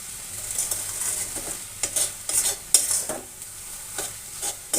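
Thick radish laddu mixture stirred in a pan, a series of rhythmic scraping strokes over a light sizzle, close and fairly loud, with no voices.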